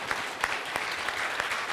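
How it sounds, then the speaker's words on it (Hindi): Audience applause at an indoor business coaching session on chemicals manufacturing, a steady patter of many hands clapping with a few sharper claps standing out, no talking over it. "ये मरी हुई तालियां मत हो जाए."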